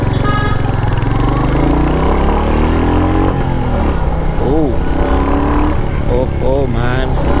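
A Royal Enfield Hunter 350 roadster motorcycle rides along a road, its engine a loud continuous drone close by, with rising pitch sweeps as it accelerates through the gears.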